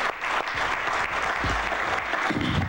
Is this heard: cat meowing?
no